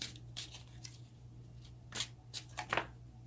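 Tarot cards being shuffled by hand, quiet close riffles and slaps coming in short bursts with small gaps between them, louder toward the end, with no voices.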